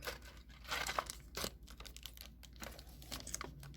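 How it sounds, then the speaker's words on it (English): Scissors cut through plastic and cardboard toy packaging for a vintage-style doll playset, giving close, irregular crinkling and snipping bursts with short pauses between cuts. "I'm just gonna cut straight through the plastic and the cardboard"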